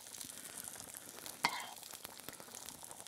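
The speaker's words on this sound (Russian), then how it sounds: "буду уже жарить мясо" Pork sizzles and crackles in hot oil left from frying onions, a steady frying hiss with scattered pops and one sharp clink of a utensil partway through.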